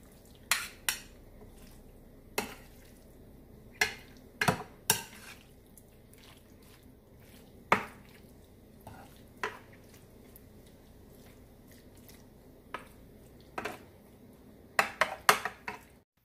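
Grilled vegetable ratatouille in olive oil being stirred in a pan, a quiet background of soft squishing punctuated by a dozen or so sharp metallic clicks and scrapes of a utensil against the pan, without speech.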